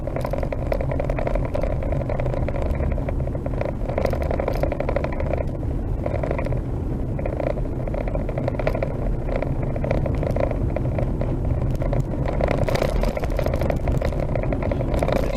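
Inside a car driving along a canyon road, a steady low rumble of tyres and engine with road noise, rattles and occasional scraping, continuous and even for the whole stretch.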